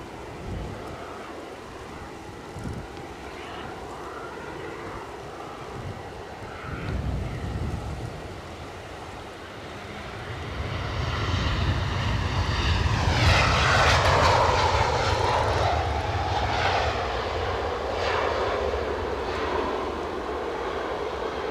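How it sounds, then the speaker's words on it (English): An Air France Hop airliner taxis out at Edinburgh airport, its engine hum steady at first, then swelling into a louder, closer roar midway and holding there, with wind buffeting the microphone. "Air France Hop pulling on out."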